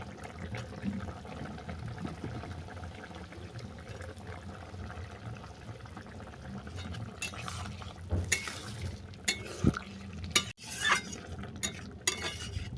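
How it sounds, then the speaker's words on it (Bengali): Stirring a cooking pot of sajna bhapa sukto with dhoka lentil-cake pieces and boiled potatoes, with soft scraping and liquid sloshing that grow busier toward the end, plus a few sharp spoon clinks against the pot. "এটাকে নেড়ে ছেড়ে আরও দু মিনিট রান্না করে নেবো"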